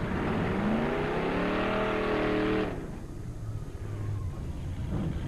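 Drag racing cars, a 1984 Chevrolet Corvette and a Z28 Camaro, rev hard with a rising, climbing engine note that cuts off abruptly, followed by lower rumbling and crowd-like noise at the track.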